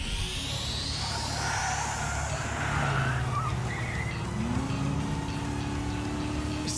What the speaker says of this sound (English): Is that a turbocharger?